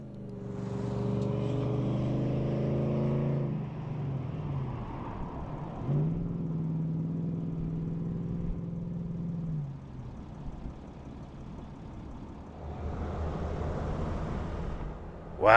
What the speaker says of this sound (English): the traffic through here, that steady line of cars